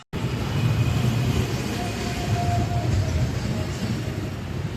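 A train runs with a loud, continuous rumble and rattle that begins abruptly and carries on steadily, heard from close by with no clear voices over it.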